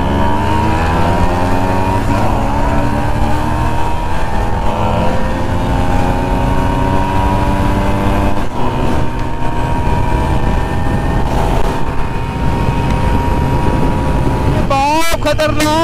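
A scooter and a Kawasaki ZX-10R sport bike drag race, engines roaring loudly with rising whines as they accelerate, wind noise and excited voices mixed in.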